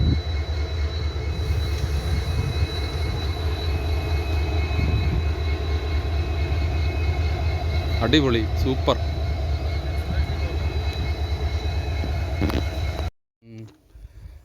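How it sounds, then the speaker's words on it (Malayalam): A passing train hauled by two locomotives, one pushing at the rear, rolls through forest near Bhagavathipuram village in a loud, steady rumble that cuts off near the end, where a voice briefly exclaims. "2 എഞ്ചിനാണ് കേട്ടോ, 2 ലോക്കയാണ് ഈ ട്രെയിനിന്."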